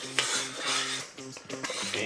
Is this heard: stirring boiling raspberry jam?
yes